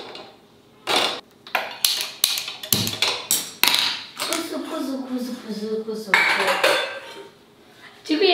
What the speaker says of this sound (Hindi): एक बार भाजी का तड़का लगा देते हैं